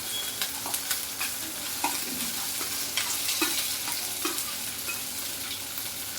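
Thickly cut large onions frying in a pan for palak chutney, giving a continuous sizzle broken by repeated stirring scrapes and clinks at a close, even level with no talking.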